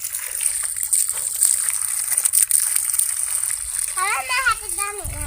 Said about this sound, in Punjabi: ਚੈੱਕ ਕਰੋ ਮੋਟਰ ਨੇ ਪਾਣੀ ਚੱਕਿਆ